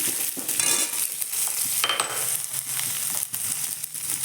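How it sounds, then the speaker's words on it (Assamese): Onion, chili, bay leaf and panch phoron fry in hot oil, giving a steady close sizzling hiss broken by occasional stirring clatter, with no voices. "তেল পিঁয়াজ আৰু জলকীয়া আৰু তেজপাত দি দিলোঁ। এতিয়া ভাজিলে পাঁচফোৰণ দিলোঁ।"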